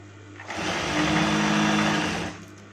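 Sewing machine stitching a curtain hem, a loud, steady mechanical whir that starts abruptly, holds evenly for about two seconds, then winds down, with no voices.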